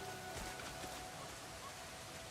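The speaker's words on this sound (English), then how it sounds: "It's raining quite hard," Hard rain falling in the video game Crimson Desert, a steady, even hiss of downpour that stays quiet and continuous with no talking.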